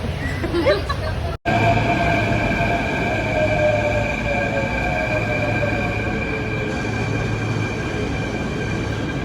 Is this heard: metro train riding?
yes